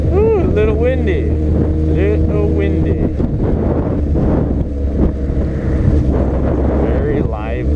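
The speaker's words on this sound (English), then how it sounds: "Little windy." Gusty wind buffets the microphone with a steady low rumble in a busy, crowded town area, while voices chatter nearby throughout.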